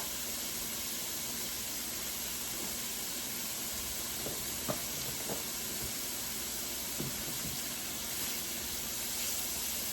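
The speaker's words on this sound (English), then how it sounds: "So I'm going to add my half an onion to the pan." Half an onion cooking in a pan for a brunch quiche, a steady soft hiss and sizzle with a few faint clicks and pops, no talking.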